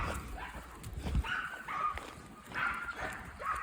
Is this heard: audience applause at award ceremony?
no